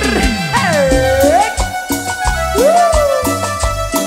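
A marimba orchestra plays continuous, lively music with rhythmic mallet notes and a gliding melodic line over a steady beat, loud and close throughout.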